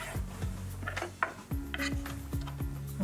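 Scraping and clinking of a utensil along a bench while tidying the edges of set khandavi gram-flour batter, a run of short close scrapes and light taps with no talking.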